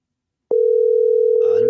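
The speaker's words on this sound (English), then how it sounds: "but Robert number just ringing" A telephone line tone sounds on an outgoing call during a radio show: one steady, loud electronic tone that starts abruptly and holds unbroken, with faint noise rising near the end.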